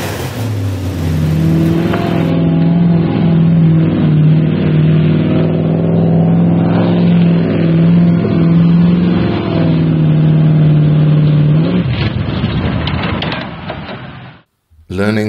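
A deep, throaty Lexus 1UZ-FE V8 engine swapped into a Range Rover Classic revs and holds a steady rumble for several seconds, loud and close, then cuts off abruptly near the end.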